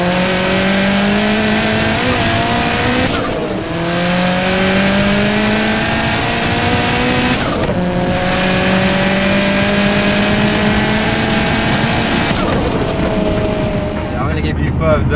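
A 500 hp turbocharged Vauxhall Astra VXR engine revs hard and accelerates repeatedly, pitch climbing through gear changes with brief dips between, loud and close.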